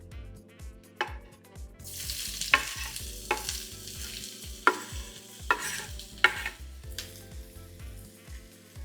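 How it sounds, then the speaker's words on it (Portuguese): Chopped onion hitting hot olive oil in an iron pot for a galinhada, stirred with a spoon: a rising sizzle under repeated scraping strokes and sharp metallic knocks against the pot, close and fairly loud, no speech. "Azeite quente, vamos entrar com a cebola."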